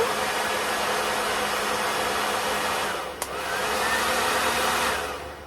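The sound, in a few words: hair dryer running on a portable power station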